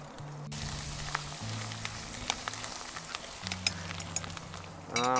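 Vegetables sizzle steadily in a wok during a stir-fry of shredded pork with pickled mustard greens and konjac sheets, a constant close frying hiss with a few small crackles and tonal hums beneath.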